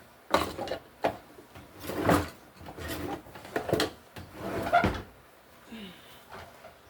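A kitchen drawer is opened and closed repeatedly at breakfast, a series of close wooden slides and bumps with rattling contents, roughly six knocks in an uneven rhythm.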